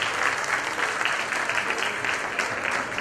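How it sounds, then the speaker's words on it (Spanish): An audience at a children's folk dance gathering claps in steady, sustained applause, a dense wash of many hands filling the whole stretch without pause. "Renovemos los aplausos, por favor, para todos los participantes de este cuadro infantil."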